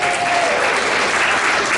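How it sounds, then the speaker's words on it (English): A room of older adults at a positive-aging gathering breaks into dense, loud applause for a participant named Teresa, continuous and close throughout. "Round of applause for Teresa here."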